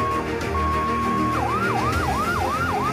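An ambulance siren at an Indonesian rescue demonstration begins with a steady tone, then switches to a fast repeating wail, loud over a busy outdoor crowd.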